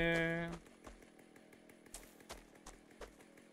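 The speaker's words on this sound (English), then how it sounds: "Come on, my chainsaw wants to taste you." A chainsaw in the video game Propnight revs loudly at the start, then cuts off, leaving faint scattered game sounds and thumps.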